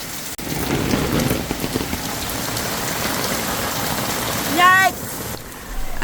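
Heavy rain pours down around a greenhouse in a steady, dense hiss. A brief whistling sound rises near the end before the downpour carries on.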